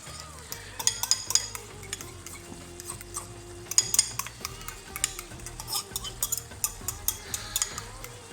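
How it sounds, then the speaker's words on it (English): Chili paste for Rajasthani laal maas curry being stirred and beaten in a pot, steady scraping and clinking of the spoon in an irregular rhythm, close and moderately loud, with no voices. "We're now going to give that a really good mixing"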